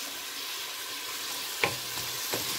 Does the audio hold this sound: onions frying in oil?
yes